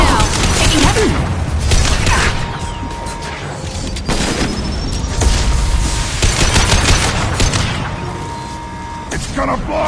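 Dense bursts of gunfire and booms from a Mass Effect 2 firefight, loud and continuous with repeated volleys, explosions and battle noise, while voices shout over the action.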